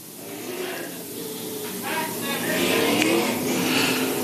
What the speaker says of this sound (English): they'll make a couple parade laps here, let the guys warm up the engines